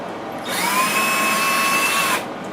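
A power drill spins up and drives screws during the refurbishment of a tenor bass speaker cabinet, giving a steady, loud, close whine for about two seconds before stopping.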